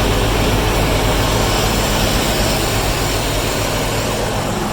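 Tractor engine running steadily at close range on a first day in the field, with an oil leak sprung; a loud, continuous low rumble and broad mechanical roar with no talk.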